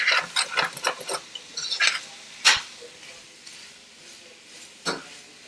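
Ginger and garlic stirred in a pan alongside shrimp and sausage, giving scraping, clattering utensil strokes in a quick irregular run over soft sizzling, then a few isolated louder scrapes later on; no talking.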